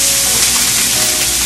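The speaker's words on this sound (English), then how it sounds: "I hear a lot of sizzling going on" Loud, continuous sizzling of Trader Joe's spicy Thai shrimp fried rice frying in a hot pan, a dense steady hiss close up with no talking.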